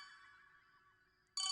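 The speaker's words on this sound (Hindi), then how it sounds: "सॉरी, अनंत का फोन है" A phone ringtone bursts in suddenly and loudly at the very end, following a fading electronic tone in an otherwise quiet indoor scene.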